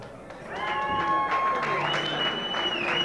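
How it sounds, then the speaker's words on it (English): At a Miss Gay Indiana pageant, an audience claps and cheers from a distance while tonal music and a voice sound over the applause for about three seconds. "give a big, thunderous round of applause for your Miss Gay Indiana from 2000"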